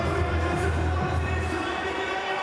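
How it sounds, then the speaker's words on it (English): A large stadium crowd roars steadily at an NRL rugby league match between the Parramatta Eels and New Zealand Warriors at CommBank Stadium, a dense, continuous wash of cheering and chatter with no breaks. "They've played in front of bigger crowds here at CommBank Stadium, but they're making plenty of noise."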